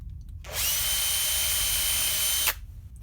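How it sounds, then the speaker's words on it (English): A power drill with a 6mm bit drilling a hole whirs steadily at high speed for about two seconds, starting and stopping abruptly, close by with nothing else around it. "I'm just going to put a 6mm drill in there"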